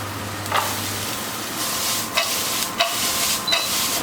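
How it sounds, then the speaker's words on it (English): Onions and carrots sauté in oil in a home kitchen, with a loud, steady sizzle close by and a few scraping stirs of the pan. "I'm going to saute these with some oil and ignore that."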